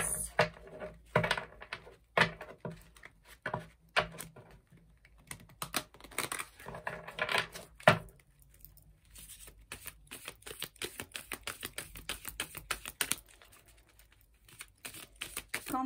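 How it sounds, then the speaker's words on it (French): A deck of tarot cards being shuffled close by, with irregular bursts of crisp riffling and tapping clicks separated by short pauses, quiet overall and without speech. "je mélange les cartes"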